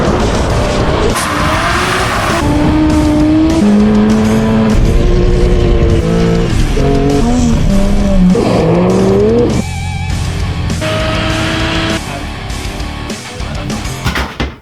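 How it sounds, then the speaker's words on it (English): A Toyota Celica engine revs up and down repeatedly, loud and close, its raspy, puffing exhaust leak audible through the rising and falling pitch. "I'm getting rid of this annoying exhaust leak"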